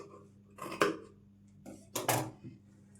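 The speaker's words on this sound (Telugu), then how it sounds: "ఈ ఎక్స్ట్రా క్లాత్ని కట్ చేసుకోవాలి" Scissors snipping away the extra cloth of a blouse during stitching, two short crisp cutting bursts with metallic clicks, close and alone in a quiet room.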